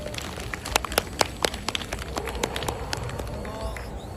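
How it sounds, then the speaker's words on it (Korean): Applause at an outdoor pre-ceremony for a Songpa walking event held with people with disabilities: scattered, uneven claps from a small crowd, moderately near, fading out over a few seconds against faint background voices. "여러분 뜨거운 박수 부탁드리겠습니다"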